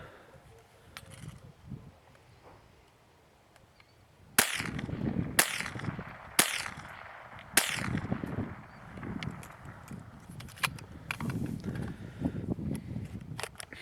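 A Norinco JW 15 rifle fires during outdoor target shooting, with about four sharp, loud cracks spaced a second or so apart over a low rustling background.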